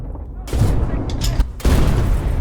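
Gunfire and artillery blasts in a war video game, a USA campaign on conquest mode with infantry fighting for a point, heavy booms and shots rolling continuously with a brief lull, loud and dense.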